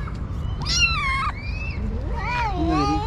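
Kittens of an injured stray mother cat meow close by, several high, wavering cries overlapping one another above a low background rumble.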